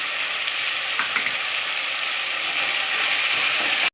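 Chopped tomatoes and onions sautéing in a pan for biryani give off a loud, steady, close sizzle that keeps going without a break, with faint stirring scrapes.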